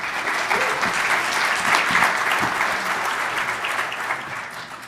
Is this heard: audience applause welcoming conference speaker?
yes